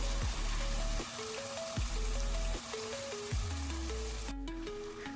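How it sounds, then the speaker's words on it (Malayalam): Marinated chicken sizzles and fries steadily in hot coconut oil and ghee over a high flame, a continuous close crackle with several soft thumps and stirring scrapes, no voices. "നമ്മൾ മാരിനേറ്റ് ചെയ്ത് വെച്ചിട്ടുള്ള ചിക്കൻ അതിലേക്ക് ഇട്ട് കൊടുക്കാം"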